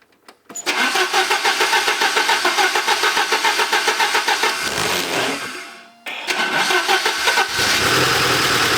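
A Porsche 944 engine cranks and catches after a fuel pump replacement, then runs loud and steady with a pulsing rhythm, briefly dips and cuts out, and fires up again to keep running close by.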